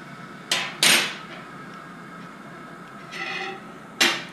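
A 17 mm wrench on the fork of a DR-Z400 motorcycle gives a few sharp metallic clanks and clinks, close and irregular, with quiet pauses between them.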